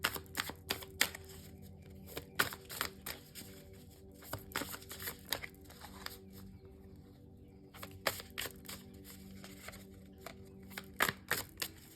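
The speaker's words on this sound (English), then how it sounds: "tarot decks are more, like some of them are just more thicker than other ones and it's just harder to shuffle?" A tarot card deck, some thicker and harder to shuffle, is riffled and shuffled in repeated crisp bursts of snapping and flapping, close and fairly quiet, with brief pauses between shuffles.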